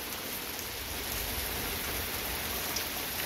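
A heavy rain downpour pours on and around a porch as a steady, dense hiss of water, close and continuous with no talk.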